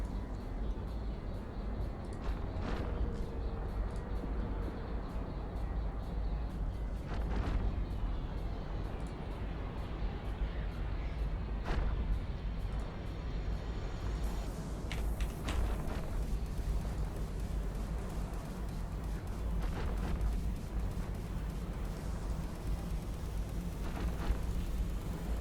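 Ship guns in EVE Online fire at a battleship, with repeated booming shots spaced through a steady low rumble of space combat ambience, moderately loud and fairly continuous.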